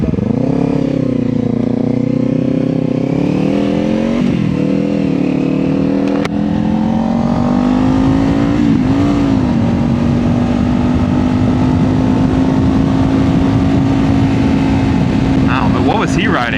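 A Kawasaki Z500 motorcycle accelerates through its gears, the engine note climbing and settling into a steady loud drone heard from the rider's position, with wind rush and a voice speaking over it.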